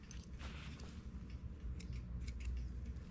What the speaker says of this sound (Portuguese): Puxando e cortando a carreira,